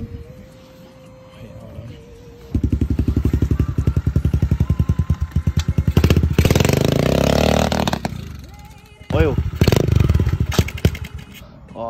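A police-auction dirt bike that has been hard to start: a low idle, then the engine catches with a loud, rapid pulsing roar, revving up and down with brief drops, close to the listener.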